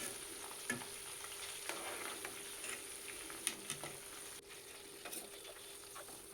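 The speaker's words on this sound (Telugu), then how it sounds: "నల్ల జీలకర్ర, వేసి అవి కూడా రోస్ట్ అవ్వాలన్నమాట ఆయిల్లో." Black cumin and curry leaves roasting in oil for homemade herbal hair oil make a quiet, steady sizzle, with scattered faint clicks and taps of stirring.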